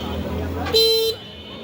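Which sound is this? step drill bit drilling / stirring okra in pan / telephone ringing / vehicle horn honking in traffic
vehicle horn honking in traffic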